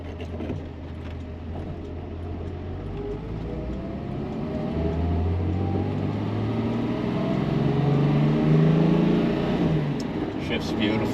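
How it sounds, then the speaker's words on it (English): A 1969 Mercedes-Benz 280SL Pagoda drives at speed, its engine a steady, close drone that builds as it climbs through the gears, rising tone sweeps marking each shift over constant road noise. "It's a really nice running and driving car."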